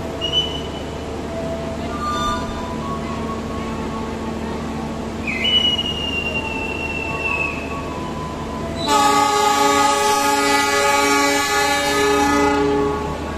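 KA Siliwangi passenger train departing from a station on the Sukabumi–Cipatat line: a low rumbling engine drone, two long sustained horn blasts, then a loud harmonic wheel squeal toward the end, with no talking.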